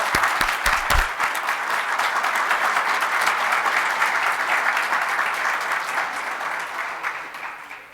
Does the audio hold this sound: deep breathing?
no